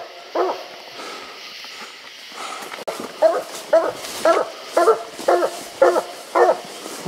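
A coon hunting dog bays at a treed raccoon outdoors. After a few scattered calls, a steady run of loud, evenly spaced barks repeats roughly every half second.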